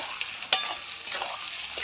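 Onions fry in a pan on a strongly burning village stove, a close crackling sizzle with small scraping stirs and sharp spatters, no voices over it.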